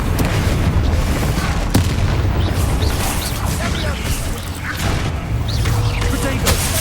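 Confringo spell blasts in Hogwarts Legacy, several loud booming impacts and crashes spread over a few seconds amid ongoing low rumbling battle noise, with a voice speaking in the mix.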